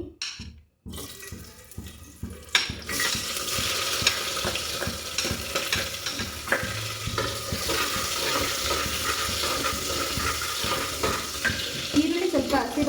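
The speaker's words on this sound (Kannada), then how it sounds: "ವಾಸನೆ ಹೋಗೋವರೆಗೂ ನೀವು ಫ್ರೈ ಮಾಡ್ಕೋಬೇಕು" Loud, continuous sizzling and crackling of onions and tomatoes frying in hot oil, starting after a brief thump and rustle, with occasional stirring noises.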